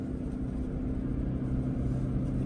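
Toyota Land Cruiser 250 engine pulling steadily under acceleration, a continuous low drone with a faint whine, close and even in level, with no talking.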